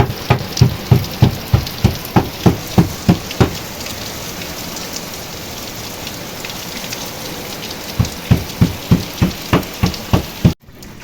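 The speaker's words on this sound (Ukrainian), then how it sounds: "Ох, дощ який, гляньте" Steady rain falls with a rhythmic series of sharp drips or taps hitting a surface, pausing midway, then resuming before an abrupt cutoff.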